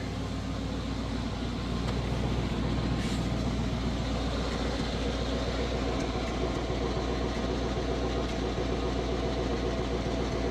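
A Chevrolet 350 V8 engine in a 1980 Chevrolet Scottsdale truck idling steadily with a low, even rumble and slight rhythmic lope, heard close up from behind near the mufflers, no talking.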